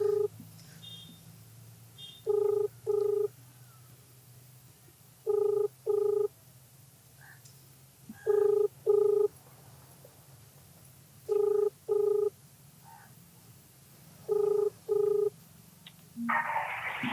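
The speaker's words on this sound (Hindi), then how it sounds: "इन्हें फ़ोन मिलाते हैं।" A telephone call is placed and rings out: a couple of brief dial tones, then a steady repeating ring of paired tone bursts every few seconds over a quiet low hum, with no voices.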